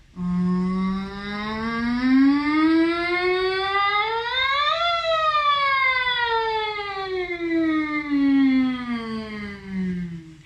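A single sustained hum on 'ng' sweeps slowly upward from low to high, peaks, then slides gently back down, imitating a siren.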